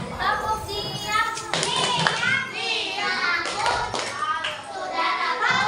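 Schoolchildren in a classroom perform a call-and-response clapping routine, sharp rhythmic claps in short bursts mixed with their lively chanting voices throughout.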